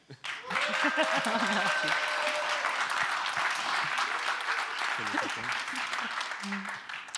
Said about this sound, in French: s'il vous plaît, applaudissez-les pour qu'elles le gagnent